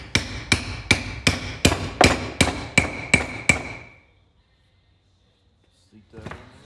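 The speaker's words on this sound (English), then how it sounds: "you can do it with just a hammer. Just tap it slow and go even all the way around the edge." A hammer taps a bearing seal into a brake rotor during a 1968 Chevy C10 front disc brake conversion: nine sharp, evenly spaced metallic taps, then silence and a soft clunk of handling.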